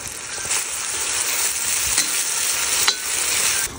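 Food sizzles steadily in a hot cauldron (kazan) while a utensil stirs and scrapes through it, with a few louder scrapes along the way.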